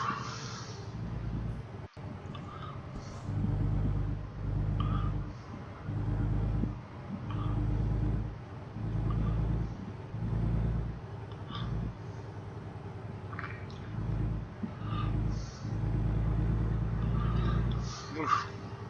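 Big truck engine in American Truck Simulator rumbling in repeated low surges as it accelerates and eases off, steady and close, while someone talks over it.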